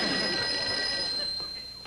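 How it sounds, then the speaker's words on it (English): An old household telephone bell rings with a sustained metallic jangle, steady at first and then fading slightly toward the end, over a low background rumble. "Sounds like the phone's ringing."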